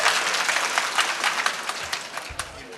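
A crowd at a public rally in Kenya claps, with a sustained wash of applause and scattered individual claps tapering over a few seconds.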